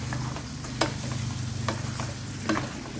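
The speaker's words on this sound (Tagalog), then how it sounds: "And then halo, haluin muna." Marinated pork fries in a pan while being stirred, giving a steady close sizzle broken by several sharp scraping stirs.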